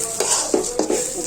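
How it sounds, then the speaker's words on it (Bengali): Ground coriander, cumin, meat masala and turmeric are fried and stirred in a pot for vegetarian khichuri, with a steady close sizzle and a few quick spoon scrapes against the pot. "দিয়ে আমি একটু ভেজে নেব।"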